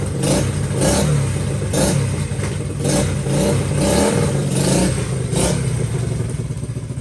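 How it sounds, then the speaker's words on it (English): A Honda XL70 small motorcycle engine runs close up, a loud steady putter with rhythmic surges about once a second, heard alone. "Boy, this is a good running bike."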